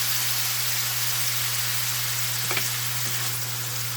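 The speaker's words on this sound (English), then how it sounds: "We're going to hit it with a little white wine." Steady, dense sizzle of white wine hitting drained ground beef in a hot pan, frying evenly throughout with a faint low hum beneath and a couple of brief crackles near the end.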